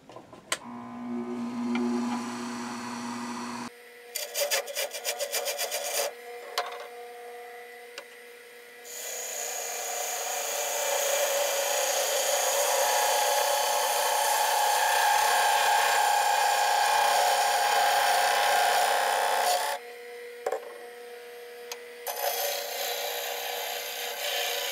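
Cherry wood segments being cut for a segmented bowl, a steady loud saw whine running for long stretches with brief pauses and restarts, close and alone.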